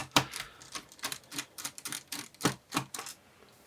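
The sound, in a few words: removing screws from Acer Aspire 3 laptop base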